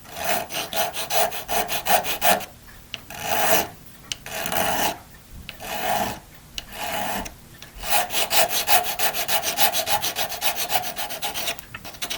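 Repeated scraping of a knife or file over a plastic model ship part to remove flashing, in steady rasping strokes broken by short pauses, close and fairly loud with no talk.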